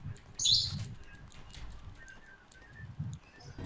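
A single bright bird chirp in Fortnite, high and brief near the start, followed by faint scattered tweets over low game rumble.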